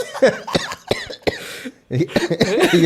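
Several sharp coughs burst out in quick succession, close and loud, then a short pause followed by more rough coughing.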